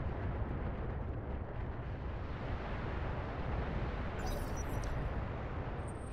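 Missile barrages in the BATTLETECH video game land as a continuous heavy rumbling roar of explosions, dense and unbroken, with a brief high crackle toward the end.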